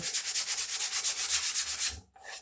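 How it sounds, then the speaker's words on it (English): A block sander smooths a wooden axe handle on a vintage Plumb 4.5 Dayton axe, with close, rhythmic back-and-forth rasping strokes, about ten in quick succession, ending abruptly. "Hit it with the block sander when you're done"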